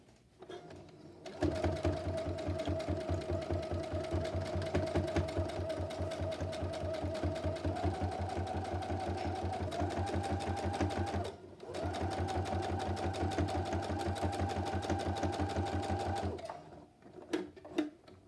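A sewing machine stitches a seam across a fabric bag in a steady, rapid needle chatter that runs for about ten seconds, pauses briefly, then resumes before stopping, close and alone.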